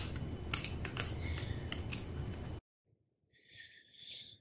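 Scissors hand-cutting crochet business tags, a run of crisp snips close up over a steady room hum, then a short pause and a brief rustle.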